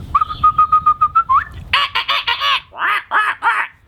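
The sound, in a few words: birds honking their song to wake the sun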